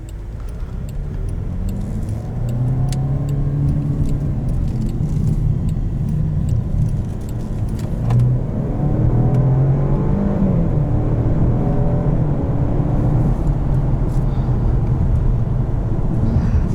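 A 2021 Jaguar XF P300 R-Dynamic SE accelerating, heard from inside the cabin: a steady engine drone rising in pitch, dipping briefly at a gear change, then climbing again under faint interior rattles.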